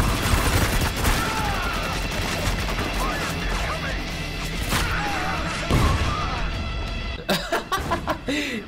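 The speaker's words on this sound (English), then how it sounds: "Oh god, another grenade." Grenade blasts in the co-op shooter Spec Ops: The Line go off amid a dense, continuous wash of gunfire and battle noise, with several sharp bursts near the end that stand out from the steady din.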